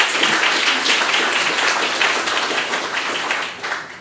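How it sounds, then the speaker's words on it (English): An audience at a literary prize ceremony applauds the writers, a dense, steady wash of many hands clapping that holds for several seconds before easing slightly at the end. "I think we should give all those writers a big round of applause."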